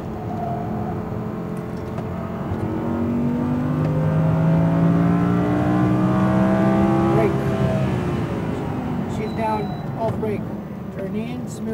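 A rear-wheel-drive Audi R8 V10 revs hard on a race track, its engine climbing through rising and falling gear sweeps, loud and close, with an instructor's voice talking over it.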